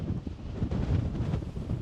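Wind blows across open terrain at Badlands National Park, a steady low rumble buffeting the microphone, dusty gusts rising and falling with no voices.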